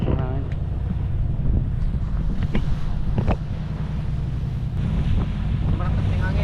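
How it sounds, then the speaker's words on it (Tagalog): Wind blows hard on a boat at sea off Romblon, a constant rushing roar buffeting the microphone over the wash of waves, with people talking intermittently. "Start na ng hangin, oh."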